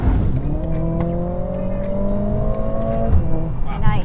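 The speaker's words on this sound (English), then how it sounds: "The exhaust, it doesn't sound like your typical 4-cylinder. It has a very aggressive sound." The four-cylinder engine of a 2024 Mercedes-AMG CLA 45 S revs up and holds a rising, throaty, aggressive exhaust drone, loud and close, then drops off near the end.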